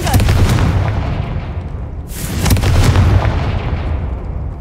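The Confringo fire spell explodes with a loud, close boom in Hogwarts Legacy, and a second blast follows about two seconds in, each trailing off in a rumbling roar.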